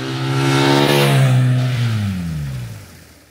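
Honda CRF 1100 Africa Twin motorcycle on an alpine pass road, engine note rising and falling through a strong rev then dropping away, loud and close before fading toward the end.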